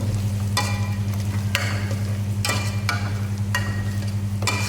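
Spatula stirring cooked onions in a pan over a steady sizzle, with scrapes recurring roughly once a second, close and fairly loud.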